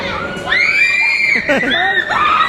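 A child screams high and shrill amid a loud shouting crowd during a trip to Baguio City, Benguet, with cheering and voices filling the whole stretch.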